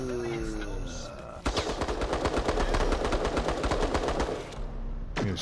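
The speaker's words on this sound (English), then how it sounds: "You're shooting the fuck out of me." Rapid automatic gunfire from a Resident Evil Resistance match bursts in loud and close after a short stretch of talk and game sounds, then continues as a dense rattling stream for about three seconds before it stops abruptly.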